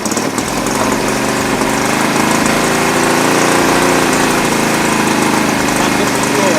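A 1975 Honda CB200T twin motorcycle engine idles loud and close with a steady, rough mechanical chatter that stays even throughout.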